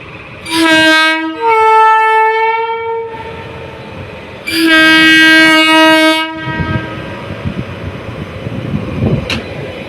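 A loud train horn blares in two long harmonic blasts, separated by a pause, followed by the rumble and clatter of a train passing Malviya level crossing in Rajkot.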